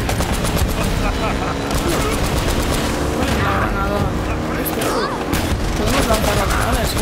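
Rapid gunfire from an enemy in the video game Uncharted: Drake's Fortune (Nathan Drake Collection) bursts out continuously in dense volleys. Booms and game effects mix in, and a player talks over the shooting.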